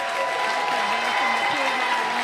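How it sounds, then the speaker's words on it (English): Audience applause at a school Amazing Shake event, a short steady burst of clapping with a voice carrying over it. "Let's give a round of applause to Alec and Mason"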